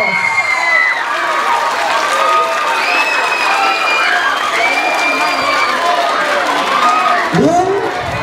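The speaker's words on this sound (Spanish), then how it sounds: "es para Kendra Ferretti, póngale el aplauso." A large outdoor crowd at a Mojiganga festival in Tepalcingo claps steadily for a festival queen candidate, with whistles, shouts and children's voices mixed into the loud, continuous applause.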